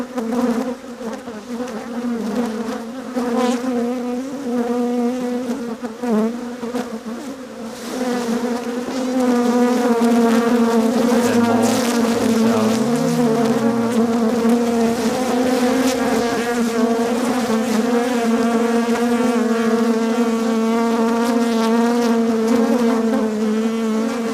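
Agitated honeybees buzz loudly and continuously around an opened hive during queen cell removal, a dense close drone that swells louder midway and holds, with no talking.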